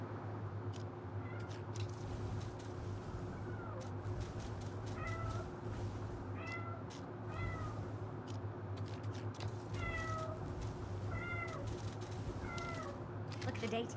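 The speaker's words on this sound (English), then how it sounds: "Oh my god, cat, shush your mouth." Several short cat meows recur through the stretch, moderately near, over a steady low hum, with people talking at times.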